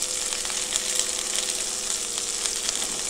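Thinly sliced cabbage frying in a pan for a Tamil cabbage poriyal gives off a steady, even sizzle with faint crackles, close and continuous with no voices.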